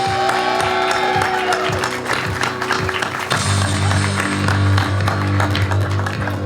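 Crowd at a Special Olympics torch run clapping for an athlete, scattered applause with sharp individual claps over a low steady hum and a tonal ringing in the background.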